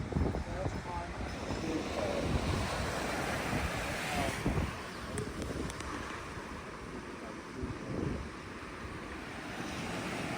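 Sea waves wash at the seaside under constant rushing wind buffeting the microphone, with a steady broad roar and occasional voices nearby.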